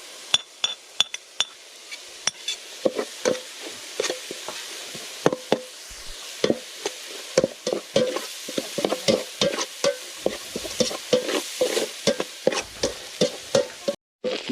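Spicy squirrel with chili is stir-fried in a pan over a steady sizzle. A spatula scrapes and clinks against the metal over and over in an uneven rhythm, close and fairly loud, with a sharp knock near the end.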